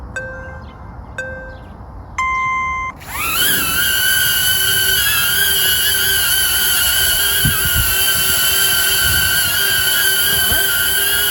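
A Hover Air X1 drone spins up after three short startup beeps, then holds a steady hover with a loud, constant propeller whine and tonal hum close by.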